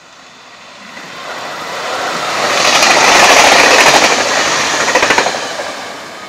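An up-bound Class 2700 Nanpu limited express approaches with a steadily swelling roar that peaks as it passes close by, with a quick burst of wheel beats over the rail joints before it begins to recede.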